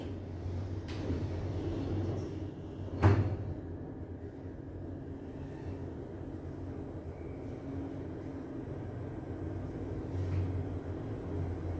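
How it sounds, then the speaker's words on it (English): A Schindler machine-room-less elevator at Istanbul Airport closes its door with one soft thud over a quiet, steady mechanical hum. "Kapı. Kapanıyor. Door closing."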